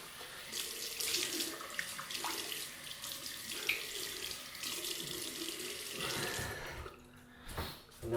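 Tap water runs steadily into a sink as a safety razor is rinsed under it, a continuous close splashing that shifts slightly in tone as the blade moves through the stream, with a few brief clinks near the end.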